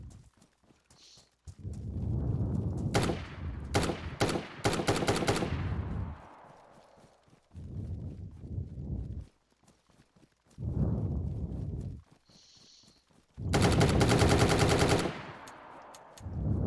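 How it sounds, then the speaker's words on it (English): Gunfire in the video game DayZ as zombies are shot, with bursts of rapid automatic shots among separate single bangs and heavy thuds, loud and close, spaced by brief quiet gaps. "maybe shoot some zombies"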